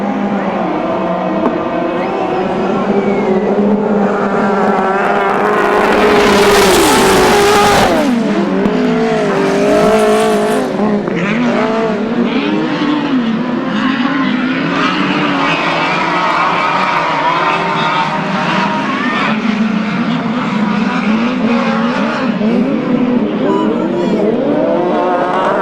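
Grasstrack racing engines from the 2012 South East Centre Grasstrack Championships roar loudly around the track, one machine surging close past mid-clip, others droning and revving on with a faint voice underneath.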